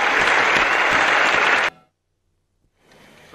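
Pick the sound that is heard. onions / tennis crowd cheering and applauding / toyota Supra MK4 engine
tennis crowd cheering and applauding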